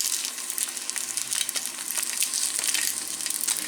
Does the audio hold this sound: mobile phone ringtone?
no